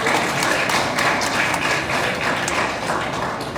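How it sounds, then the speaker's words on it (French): A school eloquence tournament audience applauds, a steady dense wash of hand claps sustained and even throughout, with no voices over it. "Applaudissez encore, s'il vous plaît."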